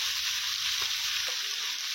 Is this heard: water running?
no